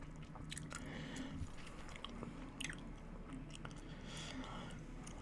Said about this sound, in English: If you hear me chewing gum